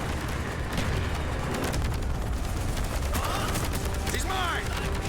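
Machine gun fire in the Vietnam village campaign of Call of Duty: Black Ops, rapid bursts mixed with battle noise, close and loud throughout, with voices shouting over it.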